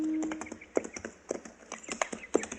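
Mule hooves clop in a steady uneven rhythm on hard ground as a radio drama sound effect, several close, crisp hoof strikes with faint background noise and no one speaking.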